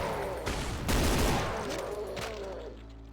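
Enemy gunfire in Brutal Doom, a loud burst of close shots crackling with echoing reports that trail off after a couple of seconds.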